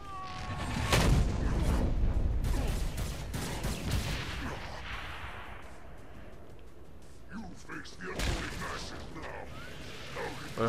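Gunfire in the video game Saints Row: Gat Out Of Hell, with repeated shots and booming blasts that are densest early and thin out later, mixed with game sounds while someone talks over them.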